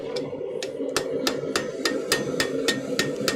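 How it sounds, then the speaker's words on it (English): Straight peen hammer striking metal in a smithy, about a dozen sharp, evenly spaced ringing blows over a steady low hum of the workshop. "Trying to round it with a peen, a straight peen, is not the easiest thing."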